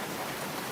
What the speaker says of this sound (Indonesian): Lihatlah hujan ini. Allah turunkan setetes demi setetes.